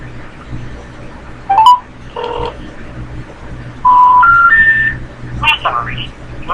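A telephone number is dialed on a keypad, producing a series of short DTMF beeps in irregular groups, each tone distinct, with light background noise and some talking between them.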